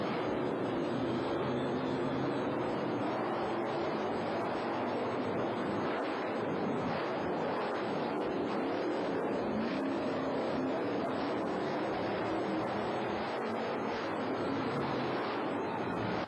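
Monster truck engines at full throttle during a 1991 USHRA show in Oklahoma City, a dense, continuous, loud roar that barely varies and has no pauses.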